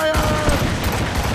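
Naval cannon fire in the video game Assassin's Creed Rogue: a dense, loud barrage of overlapping booms and cracks that rumbles on without a break for over a second, with shouted voices mixed in.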